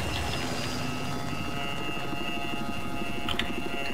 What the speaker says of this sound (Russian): вертолет взлетел